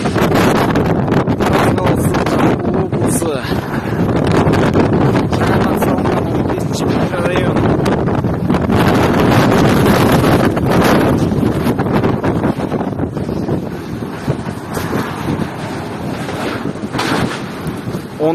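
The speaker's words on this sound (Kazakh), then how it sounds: "Ужас, қатты жел болып жатыр." Strong storm wind during a hurricane with snowfall and blizzard roars continuously outdoors in Taraz, Kazakhstan, buffeting the microphone with a loud, unbroken rumbling gust that barely eases throughout.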